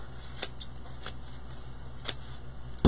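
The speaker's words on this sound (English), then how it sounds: "Cut the edges." Scissors snip raffia edges on a deco mesh fall wreath, giving a few short, crisp clicks spaced irregularly over a faint background hiss.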